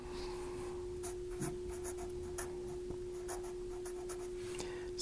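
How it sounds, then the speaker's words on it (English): Pen or pencil writing the word barium by hand on paper, soft scratching strokes in short bursts, close and quiet against a faint steady hum. "So let's write barium down."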